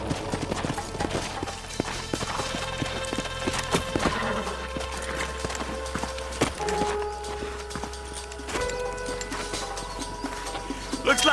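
Horses' hooves clop steadily along in the Red Dead Redemption video game, a continuous patter of footfalls that sits under low ambient rumble and game sound, with a brief voice murmuring faintly.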